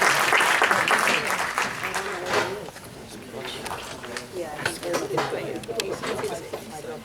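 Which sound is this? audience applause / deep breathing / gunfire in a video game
audience applause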